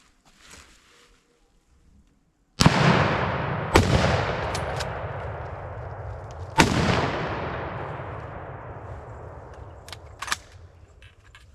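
Three loud, sharp gunshots fired at a wild boar during an outdoor hunt, spaced a few seconds apart, each followed by a long rolling echo that fades slowly.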